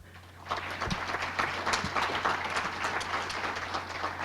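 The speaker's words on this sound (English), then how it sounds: "You guys, keep clapping." An audience claps for a county president being introduced at a NAMI Walks kickoff event, a steady, moderately loud spread of many hands that swells shortly after the start and continues evenly without pause.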